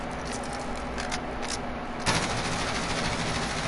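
M4 assault rifle firing in the Modern Warfare video game, a steady dense burst of automatic gunfire running throughout, growing slightly louder and harsher partway through.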